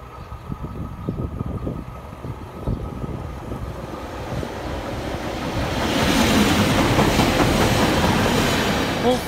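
A Pacer diesel train passing Saxilby West Bank level crossing, a building rumble with wheel clatter that swells into a loud, close roar of rushing air and rail noise.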